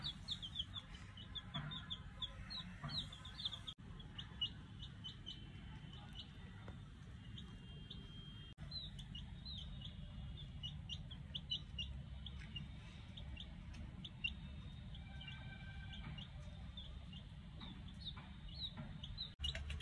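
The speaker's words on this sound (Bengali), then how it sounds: "এর মধ্যে এটা মোরগ আছে, এটা মুরগি আছে" A pair of young chicks, a cockerel and a hen, peep and cluck in quick, repeated chirps close by over a steady low background hum, with no talking.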